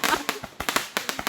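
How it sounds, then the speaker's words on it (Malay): Wukong picture firecrackers burst in a quick, close string of about eight sharp cracks, loud and evenly spaced. "Itulah dia mercun gambar wukong."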